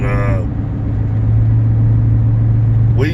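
A car interior while driving: a steady, close low engine and road rumble runs throughout, with a voice briefly at the start and again at the end.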